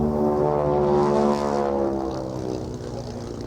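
A propeller airplane drones loudly and steadily through a one-wheel touch and go at a 1995 air show, flown with flaps and gear down, its engine tone holding then easing slightly as it climbs back out.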